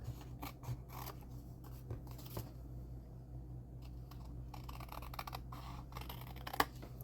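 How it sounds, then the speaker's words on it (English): Scissors trim a piece of paper during card-making, with a series of soft close snips and rustles, some quieter pauses, all at low volume. "We're gonna go and cut this piece off."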